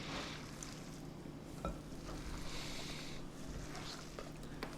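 Pork and chive dumpling filling being mixed thoroughly by hand, a soft, steady wet squelching and churning, quiet and close, with no talking.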